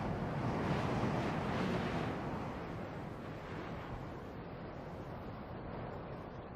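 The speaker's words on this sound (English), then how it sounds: "The spell of silence is broken by air that sweeps down from the Andes." Steady gusting desert wind sweeping down from the Andes, a broad continuous roar that eases slightly partway through, with no voices.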